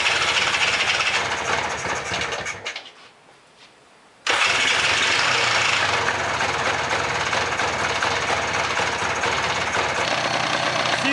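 A small engine rebuilt from a pile of parts, with its oil line popped off the check valve to bleed air, runs with a loud close rapid knocking clatter, cuts out briefly, then restarts and keeps hammering steadily.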